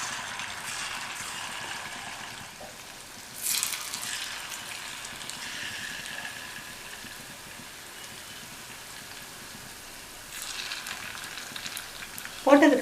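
Raw banana pieces, soaked ten minutes in masala for Vazhakkai 65, frying in hot oil in a kadai, a soft, steady hiss with brief louder bursts as pieces go in.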